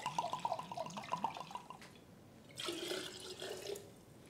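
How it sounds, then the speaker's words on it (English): Vodka is poured into a pitcher outdoors in a garden, a short liquid trickle with dripping splashes, followed by a brighter, fuller gurgle of liquid filling the container. "So I'm going to add 2 cups of vodka."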